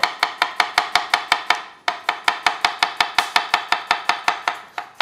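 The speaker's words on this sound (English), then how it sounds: "So basically the chopping motion is this, as you go down," A knife chops courgettes on a board at speed: about twenty-five sharp, evenly spaced knocks in a fast steady rhythm, close and loud with no talking.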